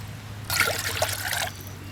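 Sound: pouring water into a pan

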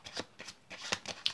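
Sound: shuffling a deck of playing cards

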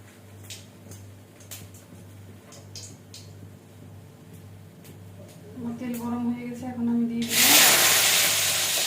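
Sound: cumin seeds tempering in hot oil

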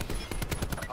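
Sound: gunfire in video game Black Ops 4

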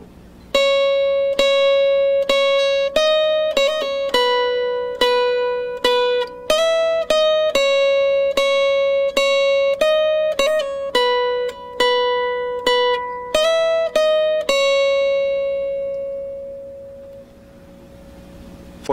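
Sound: acoustic guitar with capo playing a song intro

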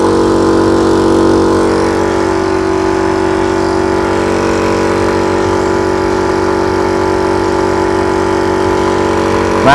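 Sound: air compressor running to fill a Ruger PCP air rifle

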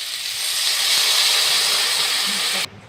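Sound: pre-heated water poured into curry with eggplant

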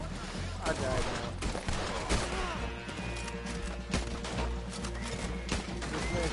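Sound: gunfire in Red Dead Redemption video game

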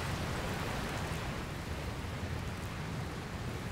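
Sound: rain and thunderstorm in the video game Dragon Quest Builders 2

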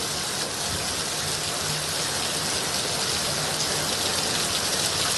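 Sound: drizzling rain in Mumbai

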